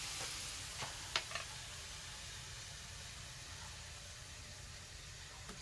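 Spaghetti sauce hits a hot pan with a faint, steady sizzle, a couple of sharp clinks early on, then a continuous low hiss.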